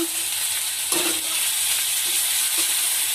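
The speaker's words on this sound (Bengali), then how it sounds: "চিকেনটাকে ভালো করে ভেজে নেব রসুন বাটা আদা বাটা" Chicken fries with garlic paste and ginger paste in a pan, a steady close hiss of sizzling with a few light scrapes of stirring.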